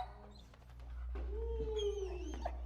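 A dog in bite training lets out a rising whimper that bends into a short howl-like whine, moderately close, over a constant low hum, with a few faint scrapes and no speech.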